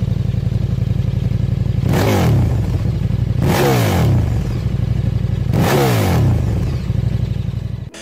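A KTM Super Duke naked motorcycle engine revs hard three times in a row, each loud blip rising and falling back to a steady, rumbling idle, close and alone.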